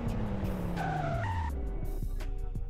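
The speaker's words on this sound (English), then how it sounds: "60 miles per hour braking test." A Porsche braking hard from 60 mph in a full-stop test, with a falling engine note and a sharp tire squeal and skid running for a couple of seconds over steady road noise.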